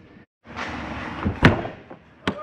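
An RV exterior compartment door on a 2021 Jayco Eagle 336FBOK travel trailer is slammed shut outdoors at a dump station, giving one loud close thud amid rustling handling noise, with a smaller knock just after.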